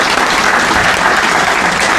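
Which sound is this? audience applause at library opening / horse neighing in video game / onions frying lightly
audience applause at library opening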